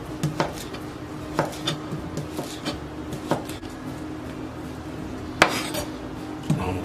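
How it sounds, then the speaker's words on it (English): A knife cuts up smoked sausage for a crawfish étouffée, giving sharp, irregular clacks of the blade striking a cutting board every second or so, close up over a low steady hum. "And now we cut up our smoked sausage."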